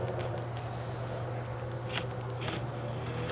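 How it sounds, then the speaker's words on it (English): A razor knife trims fiberglass fleece material on a custom fiberglass transfer case cover, making a close, dry scraping and snipping sound over a steady background hum, with a few sharper cuts toward the end. "You can take your razor knife, get in here like this"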